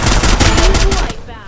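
Rapid automatic gunfire from Groza and Thompson guns in the Free Fire video game, a dense, loud burst of shots lasting about a second before fading out.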